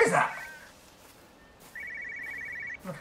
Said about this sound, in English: The phone ringing?